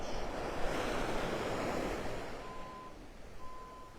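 An east breeze blows across Vanderbilt Beach in North Naples, Florida at low tide, a steady rushing wind mixed with surf wash, with faint distant reversing beeps near the end.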